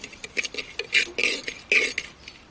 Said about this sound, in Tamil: ஒரு அரை டீஸ்பூன் கணக்குக்கு கொஞ்சோண்டு பெருஞ்சீரகம் லைட்டாக போட்டு 2 கிண்டிப்போம்